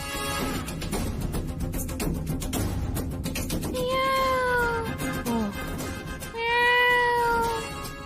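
A cat meows loudly and close, two long wavering cries a couple of seconds apart over a background of dramatic TV-serial music and noise, with a brief voiced exclamation.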